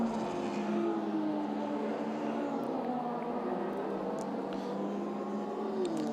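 A Radical race car circuits Monza during a European Masters race, its engine a steady mid-distance whir with shifting pitch, continuous and moderately faint with no voices over it.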